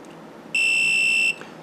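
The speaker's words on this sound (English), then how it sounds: "So there's the high voltage alarm." A Bloc Balancer lithium battery balancer sounds its high voltage alarm: one loud, steady electronic beep lasting under a second, clean and unbroken, with quiet room hiss before and after.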